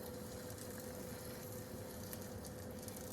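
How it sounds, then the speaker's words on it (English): Soft, steady sizzling and crackling of corn in a hot pan, faint and continuous with no talking. "So I added it, and you're gonna hear it sizzle."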